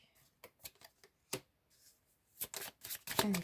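Tarot cards are shuffled close by, with irregular crisp riffles and slaps and a faster flurry of card noise toward the end.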